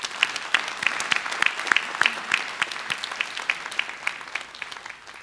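A modest forum audience applauds, with individual claps clearly separable in a brisk, uneven rhythm that tapers off toward the end, heard close and without talk.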